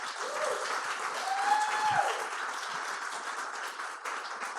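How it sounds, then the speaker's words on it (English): Audience applause at a community panel event on responsible banking, a steady wash of many hands clapping that holds evenly for several seconds, with a brief whistle-like tone rising partway through. "can we give them a round of applause"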